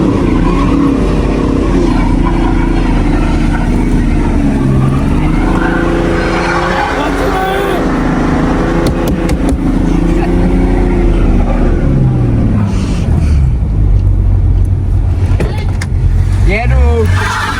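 BMW E46 car sliding through snow with the handbrake pulled, engine droning steadily and rising and falling under continuous loud noise, while people talk over it.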